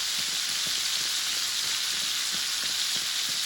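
Steaks sear in a pan of melted butter, giving a steady, loud hiss and crackle with scattered small pops throughout, unbroken and alone.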